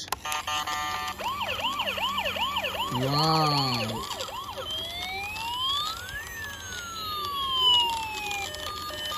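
A toy ambulance siren wails in rapid electronic whoops, then shifts to slower rising and falling tones, close and bright, with a brief exclamation partway through.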